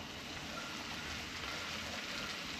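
Steady rain patters evenly on surfaces at Wabamun Campground in an unbroken, moderately quiet hiss, with no voices.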